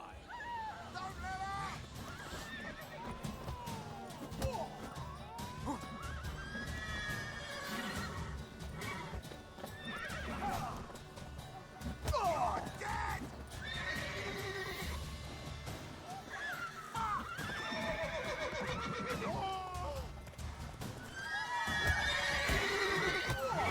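In the video game The Witcher 3: Wild Hunt, horses whinny repeatedly over a busy background of hooves clip-clopping and scattered voices, with several loud, shrill neighs rising and falling.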